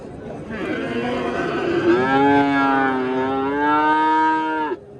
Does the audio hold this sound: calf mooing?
yes